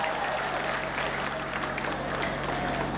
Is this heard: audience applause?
yes